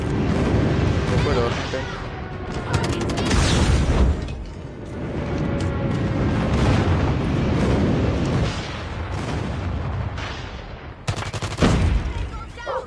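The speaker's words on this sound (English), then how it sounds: "Friendly airstrike incoming." Explosions and gunfire from a friendly airstrike in the mobile shooter Call of Duty Mobile, loud rumbling blasts and rattling shots layered over continuous game noise, with a player talking over the action.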